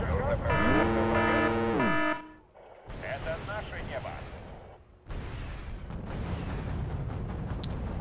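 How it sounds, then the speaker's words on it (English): Artillery firing in the video game Wargame: European Escalation, with a heavy booming rumble and blasts that cut out briefly, then resume as a sustained low roar, while a voice talks over it. "We fired artillery here"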